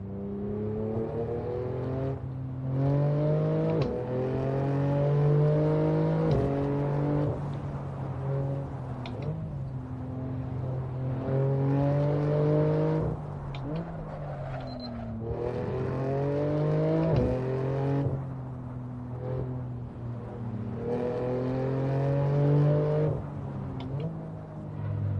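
Cars moving through traffic, with several engine sounds rising and falling as vehicles accelerate and pass one after another, loud and steady throughout with no talking.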